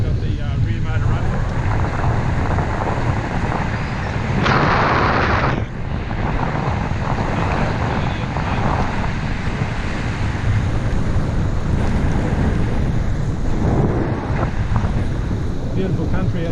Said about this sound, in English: Just got the rear motor running.